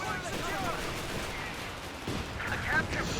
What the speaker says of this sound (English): that was a devastating Calliope barrage there